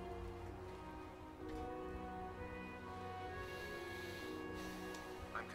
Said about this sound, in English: How is it raining?